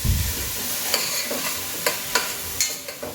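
Grated carrot and onion fry in a pot with a moderate steady sizzle, broken by several distinct stirring scrapes and knocks spaced across a few seconds.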